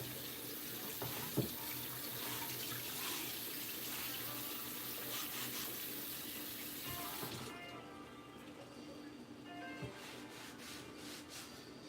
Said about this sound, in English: Let me rinse this off real quick.